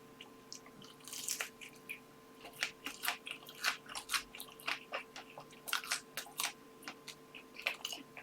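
Someone chews spicy pizza close to the mic, with a run of rhythmic crunchy bites and wet, squishy chewing over a quiet background hum.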